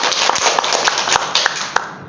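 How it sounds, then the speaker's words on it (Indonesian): A school audience claps together in a brief, brisk burst of dense applause with sharp individual claps standing out, fairly close and loud, with no talk over it. "Beri tepuk tangan sekali lagi."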